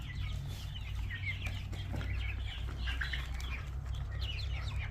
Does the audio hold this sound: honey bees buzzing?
no